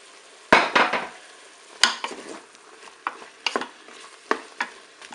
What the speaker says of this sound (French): je vais ajouter mes champignons